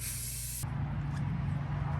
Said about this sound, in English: I found black spray paint. And so now we're going to have black tables beside our bed.